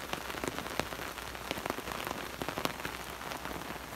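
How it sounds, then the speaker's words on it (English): Steady rain patters on surfaces around a riverbank hammock camp, a dense, even hiss broken by scattered sharper drops, with no voices. "It's raining a lot."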